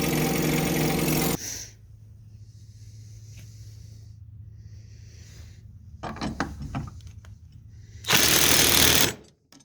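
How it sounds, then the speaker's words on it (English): A jigsaw cuts a rubber mud flap in loud, buzzing bursts at the start and end, with quieter handling and a short rattling run in between. "I just put it in my jigsaw."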